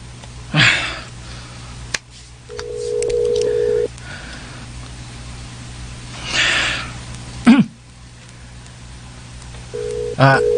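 A telephone is dialed, with short beeping tones, and then rings back in repeated steady bursts. Brief clicks and rustling come between them, over a low constant hum, with faint talk in the background.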